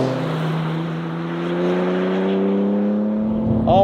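A BMW M3 Touring's engine with the exhaust valves open, a loud, steady droning note that climbs gradually in pitch as it pulls, rising sharply at the very end.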